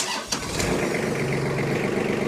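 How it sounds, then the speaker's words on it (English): A 2013 Kubota L3800D tractor engine cranks briefly, then catches and settles into a steady, loud idle that runs on alone with no talk. "I'm going to start this tractor up."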